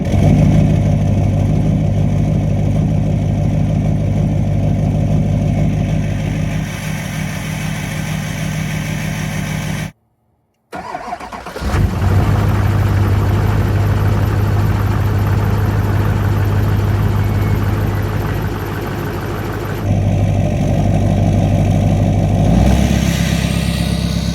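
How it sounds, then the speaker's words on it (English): Cold start of an LBZ diesel truck engine fitted with an HSP high-flow intake: a running engine cuts to brief silence, then cranks and catches into a loud steady idle with a low, constant drone. "Proper cold start."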